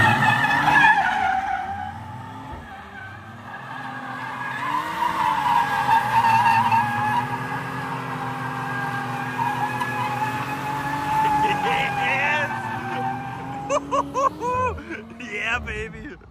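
An Audi RS5 spins donuts with its tires skidding and squealing continuously, the engine note rising and falling beneath the screech, loud and close, with voices over it.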